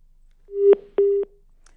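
Two clean electronic telephone line tones sound after a disconnected call, each a steady beep of roughly a quarter second separated by a short gap, loud and isolated against near silence.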